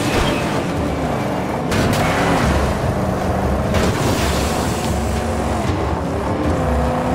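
A car engine in the Mad Max video game roars continuously as the vehicle drives, loud and rough with shifting revs and gritty road rumble throughout.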